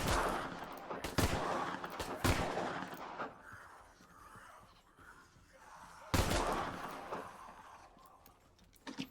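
Gunfire in the zombie-survival game SAND: Raiders of Sophie at night: a few sharp, loud shots spaced out over several seconds, with a rumbling game ambience between them.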